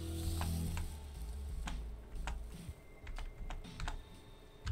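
Computer keyboard typing during a game stream: quiet, scattered keystrokes with irregular clicks over a low background hum.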